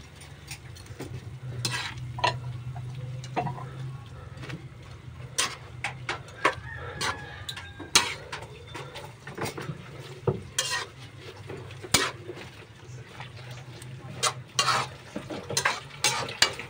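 Pancit bato noodles with cabbage being stir-fried in a pan, with repeated scraping and clinking of a utensil against the pan over a steady low sizzle, close by and moderately loud, with no talking.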